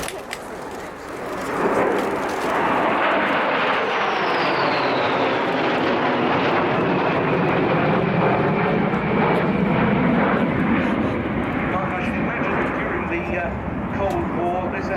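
A Polish Air Force Sukhoi Su-22 jet makes a loud, sustained roar as it passes at an air show, swelling and fading in a broad wash of engine noise. Voices can be heard under the roar.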